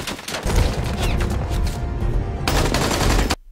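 Rapid bursts of gunfire crackle loud and close in a shootout from an Indian action film, dense automatic fire running almost continuously before cutting off abruptly, with a narrator's voice faintly underneath.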